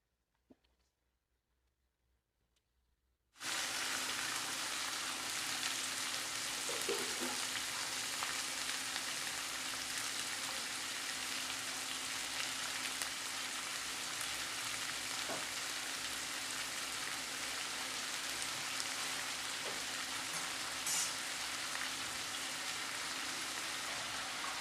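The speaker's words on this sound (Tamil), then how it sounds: "தக்காளி, வெங்காயம், பச்சை மிளகாய் எல்லாம் போட்டு வதக்கிக்கிட்டு இருக்கேன்." Tomato, green chilli and onion sautéing in a pan with mustard seeds and dried red chillies: after a few seconds of near silence, a loud, steady, dense sizzle begins and carries on unbroken, with occasional faint stirring.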